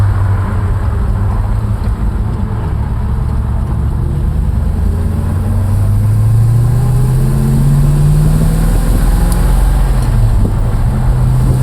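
A 1956 Chevrolet Bel Air 210 on a test drive, its engine droning steadily and loud, rising in pitch as it pulls through the gears, with no voices over the continuous rumble.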